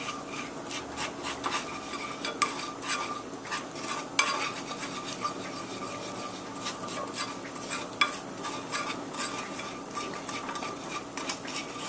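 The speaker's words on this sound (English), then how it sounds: "Now we can start stirring it all together so that it'll solidly melt off." Sugar is stirred as it melts in a pot for Vietnamese caramelized pork and egg stew, with steady scraping, light clinks of utensil on metal and a faint sizzle, close and continuous.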